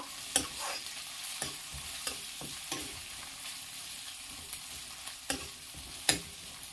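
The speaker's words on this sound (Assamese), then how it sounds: "আদা নহৰু কেঁচা গোন্ধটো যোৱালৈকে ভাজিব লাগিব" Ginger and garlic frying on a low flame, a soft continuous sizzle broken by occasional sharp scrapes and clicks of a spoon stirring in the pan.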